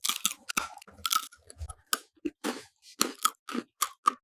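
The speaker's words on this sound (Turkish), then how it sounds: "İlk ısırdığınız zaman ne var? Orada bir çıtırtı sesi var." Crisp, close crunches of potato chips being bitten and chewed, about a dozen sharp bursts in an uneven rhythm against near silence.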